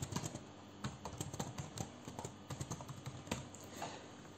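Typing an email address on a computer keyboard: a steady run of quick, light key clicks in an irregular rhythm, close but quiet, with no voice over it.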